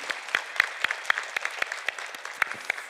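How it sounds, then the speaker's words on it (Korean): A church congregation at a family worship service claps in blessing, a sparse, uneven patter of individual hand claps at moderate distance, steady for a few seconds with no talking over it. "우리 축복의 박수 합시다"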